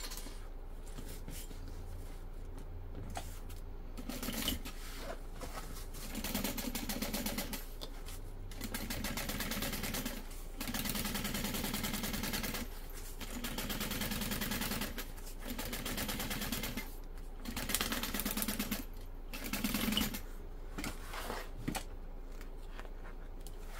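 A sewing machine top stitches a fabric bag in several bursts of steady whirring, pausing between runs, close and moderately loud with no voices.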